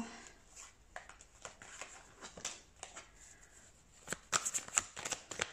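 Tarot cards are shuffled by hand at close range, with soft riffling and flicking bursts that grow into quicker, louder clusters of card slaps toward the end.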